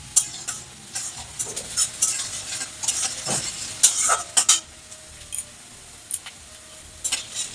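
Onions fry in a pan with spices, a crackling sizzle broken by frequent irregular scrapes and clinks of a spoon stirring against the metal, loud and close with no voices.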